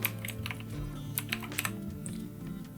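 Computer keyboard typing as a court name is entered on an online property mutation filing form: a close, quiet run of irregular key clicks with short pauses, no voices.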